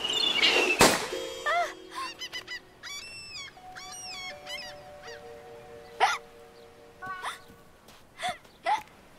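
A cartoon cat hiccups repeatedly in short, squeaky, springy bursts with irregular gaps, accompanied by bright comic sound effects and a sharp crash at the start.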